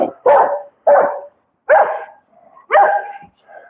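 A dog barks four times in a row, loud and close, each bark short and rough, with brief silent gaps between them.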